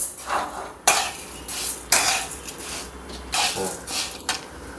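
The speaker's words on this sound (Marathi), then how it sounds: "आता आपण सतत हलवत राहू" A spoon scrapes and clinks against a pan as sugar is stirred continuously for peanut chikki, a steady series of close, moderately loud scraping strokes with sharper knocks about every second.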